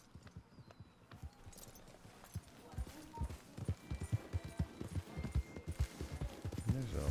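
Horse hooves clip-clopping on the ground in the Red Dead Redemption 2 video game, a run of irregular thudding footfalls growing louder and busier toward the end, with a little background noise.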